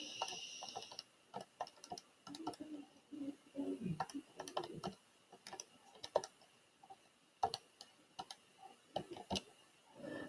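Soft, irregular keyboard clicks tap away in short bursts, quiet and close, with brief pauses between runs of keystrokes.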